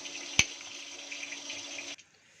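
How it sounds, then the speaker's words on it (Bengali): Boiled taro pieces tipped into a strainer as the cooking water drains off in a home kitchen, a steady close splashing trickle with one sharp clink near the start, ending abruptly. "এবার আমি জলটা ঝরিয়ে নেবো একটা স্ট্রেনারে"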